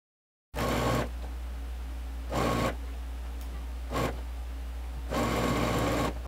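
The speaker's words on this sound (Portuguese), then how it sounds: "eu vou costurar nessa parte de cima aqui" Sewing machine stitching the top edge of a dress lining, running in three or four loud motor bursts separated by brief pauses, close and alone over a steady low hum.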